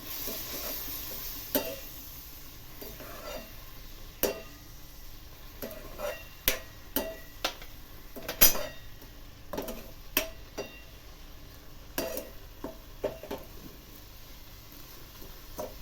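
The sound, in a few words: roasting and stirring vermicelli in a pan, milk added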